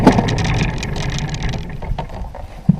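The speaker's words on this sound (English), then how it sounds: "Put the motor on." Outboard motor on a fishing boat on a lake, a steady low droning hum running close and loud under wind, ending with a short knock.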